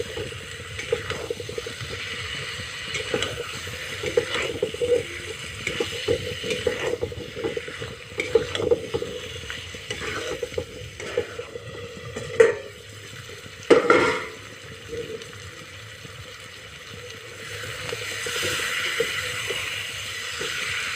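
Washed mutton stirred into cooked-down masala in a pan, a steady scraping and clatter of a spoon against metal with soft sizzling, occasional louder knocks, close and with no talk.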